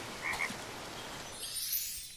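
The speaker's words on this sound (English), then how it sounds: "It's a frog! Look at the frog." A cartoonish frog croaks in Bayonetta Origins: Cereza and the Lost Demon, two quick croaks near the start followed by a sustained warbling call, heard alone against soft game ambience.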